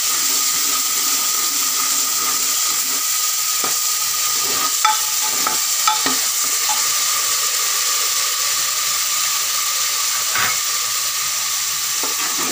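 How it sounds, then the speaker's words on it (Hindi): Onions frying with cumin seeds in a pan for Punjabi rajma give off a steady, loud sizzle throughout, with occasional clinks and scrapes of a stirring spoon and no talking. "लाल होने देते हैं अपने प्याज को थोड़ा सा।"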